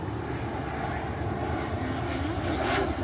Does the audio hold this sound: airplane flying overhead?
yes